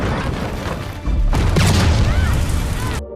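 Explosion from the film The 5th Wave: a loud, sustained booming roar that swells suddenly after a quieter rumbling stretch, with crashing debris running for over a second before cutting out abruptly.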